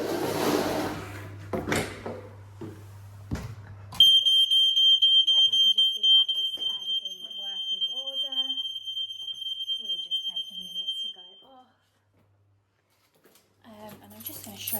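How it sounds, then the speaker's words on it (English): A loud, piercing smoke alarm test tone sounds steadily for several seconds after some close handling noises, with a person talking quietly around it before it stops. "I'm just going to test the smoke alarms."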